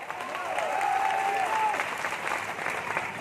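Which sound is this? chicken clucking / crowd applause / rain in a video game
crowd applause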